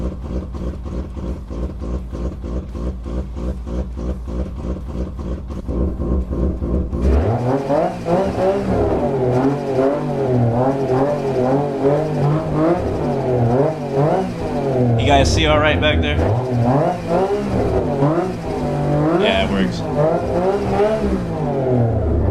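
A GT3 race car engine in Assetto Corsa Competizione, driven at Mount Panorama, revs loudly and steadily, its pitch rising and falling through gear changes. After a quieter idle-like opening, brief voices speak over the roar.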